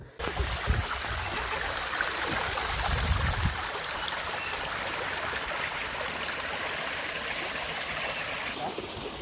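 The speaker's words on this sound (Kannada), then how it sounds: "ಇವಾಗ ನಿಮಗೆ ಅದರ ಸೌಂಡ್ ಕೇಳಿಸ್ತೀನಿ, ಎಷ್ಟು ಚೆನ್ನಾಗಿತ್ತು ಅಂದರೆ ಆ ನೀರು ಹರಿಯೋ ಸೌಂಡು" Water from a hill stream flowing steadily on a rocky monolith trek at Savanadurga, a continuous broad rushing wash heard close and fairly loud, with a few low thumps of handling early on.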